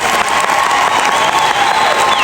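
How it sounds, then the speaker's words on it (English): Sustained applause from a crowd at a memorial service, steady and dense throughout, with a few cheers mixed into the clapping. "A big round of applause."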